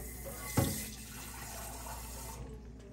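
Water poured from a tap into a pan of creamy fried fresh corn: a brief splashy gush near the start, then a steady soft running hiss of water that tapers off near the end, with no talking.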